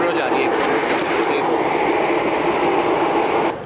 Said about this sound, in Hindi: मेट्रो जा रही है